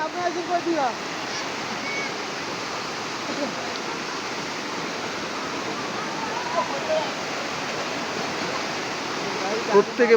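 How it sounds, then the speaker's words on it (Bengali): Flowing water from the Shoilo Propat hill waterfall in Bandarban rushes in a steady, even wash of broadband noise, moderately loud and continuous with no distinct breaks. "পাহাড়ি ঝর্ণা থেকে আসা জলধারা"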